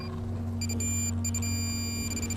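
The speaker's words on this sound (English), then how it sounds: "by using your pinpointer, which is a handheld metal detector." A handheld metal detector pinpointer emits a steady electronic tone that shifts into sustained beeping partway through, fairly faint over a low background hum.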